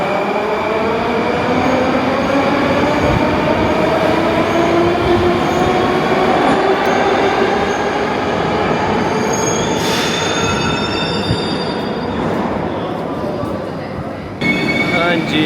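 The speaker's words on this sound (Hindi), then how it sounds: "हाँ जी, हमारी मेट्रो आ चुकी है। शोर बहुत है" A Moscow metro train pulls into an underground station, loud and close, with rising and falling wheel squeal and the roar of the cars rolling past, easing toward the end.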